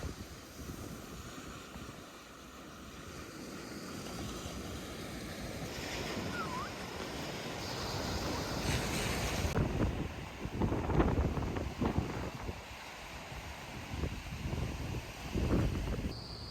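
Surf breaking on the East Sea coast on an overcast, windy day, a steady wash of waves with gusts of wind noise rising and swelling toward the end, no voices.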